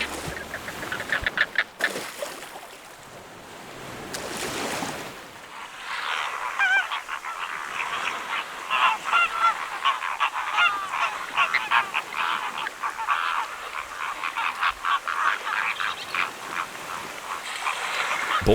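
A dense flock of flamingos calls on a beach, a continuous honking, goose-like chorus of many overlapping voices with a brief lull near the start, steady and fairly loud throughout.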